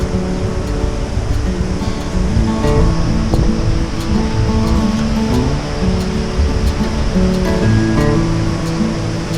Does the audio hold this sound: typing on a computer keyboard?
no